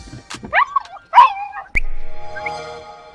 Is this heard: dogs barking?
yes